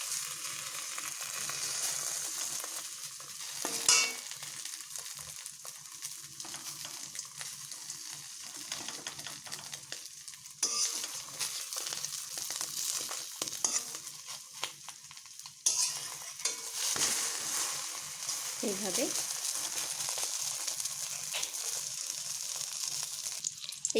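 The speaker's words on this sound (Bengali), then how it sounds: "এইভাবে এপিট ওপিট দুপিট ভালোভাবে ভেজে নিলাম।" Egg dish frying in oil in a pan, folded and cooked on both sides, sizzling steadily with occasional louder scrapes and stirring sounds, close and alone.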